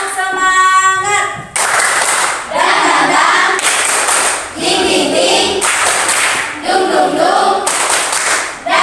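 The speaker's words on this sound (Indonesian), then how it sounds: "Tepuk semangat." A classroom of students performs a rhythmic spirit clap in repeated, patterned bursts of loud clapping on a steady beat. A brief voice is heard at the very start.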